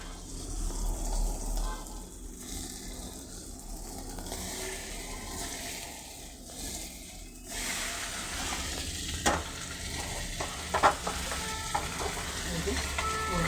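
Small mourala fish frying in oil in a home kitchen pan, a steady close sizzle running throughout with occasional scraping and clinks as the fish are flipped one-handed, no speech.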